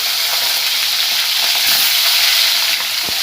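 Fish heads fry in hot oil with a loud, continuous close-up sizzle, bright and crackling throughout, with a few scattered pops and no voices.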